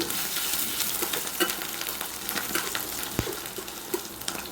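Raw onion sizzling in a pan while shrimp bhuna is being cooked, a steady close frying hiss with occasional stirring scrapes and no talk.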